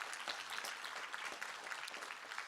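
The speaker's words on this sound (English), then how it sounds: "Let's give a round of applause to him." A conference audience at a tech summit claps steadily, dense even applause at low level throughout with no voices over it.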